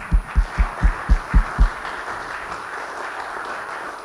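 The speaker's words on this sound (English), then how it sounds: "Another round of applause" A congregation at an Earth Day church service applauds the musicians in a steady wash of clapping, with several low rhythmic thumps standing out over the first half.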